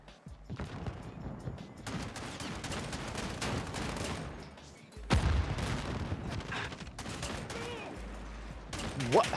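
Continuous bursts of gunfire and explosions from a shooter video game fill the scene, loud and dense, with a louder blast midway and no clear talk over it.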